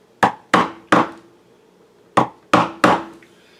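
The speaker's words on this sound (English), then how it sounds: "with the chisel and the hammer, I just chisel around these edges and cut that out" Hammer driving a chisel to cut a recess for a striker plate in a wooden door jamb: six sharp, close knocks in two quick groups of three, with a pause between and no talking.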